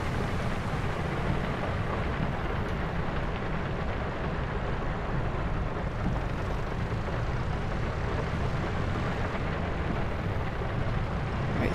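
Steady heavy rain in the Farming Simulator 25 video game, a dense continuous hiss and rumble at even loudness throughout with no voices.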